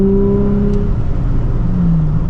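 Car with a manual transmission, engine held at steady revs with a strong low drone and a slowly shifting pitch as the driver works through a downshift; close, loud, continuous cabin sound with no talking.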